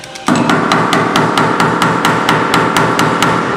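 A slide hammer pulling Camaro body metal, rapid evenly spaced metallic knocks repeating loudly and close up over a constant background hum.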